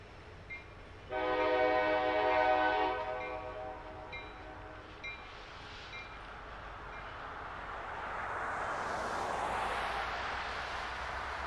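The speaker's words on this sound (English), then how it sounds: "And that's tonight's train." A train horn blares one sustained chord, then the rumble of a passing train builds and swells, continuing steadily to the end.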